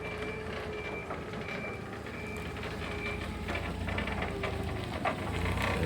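A motorised forklift reverses in a truck workshop, its backing alarm beeping in a regular repeating pattern over a low mechanical hum and occasional clanks, moderately distant.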